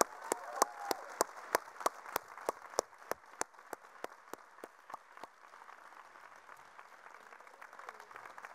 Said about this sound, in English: So a big applause for all the teams in as well.